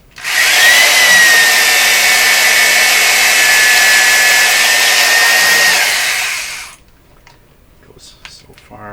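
A power tool grinds in one loud, steady, high whine for about six seconds during work on the drive traction of a Viking RCS633 console, then stops abruptly and leaves faint background noise.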